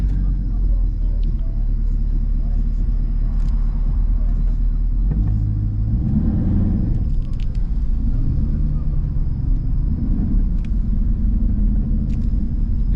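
A Jeep SRT8 driving through city streets gives off a steady, loud low rumble from start to finish. Voices talk faintly over it at times.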